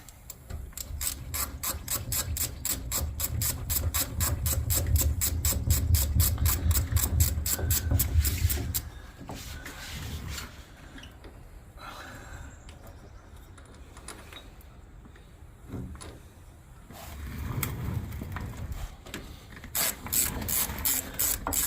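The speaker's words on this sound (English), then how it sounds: "14mm wrench." A 14mm ratchet wrench clicks in fast, steady bursts while turning bolts on the frame of an Argo 750HDi 8x8 amphibious vehicle, loud and close, pausing midway for quieter handling noises before the rapid ratcheting resumes.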